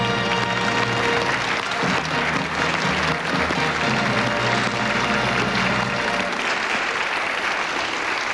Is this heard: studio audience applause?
yes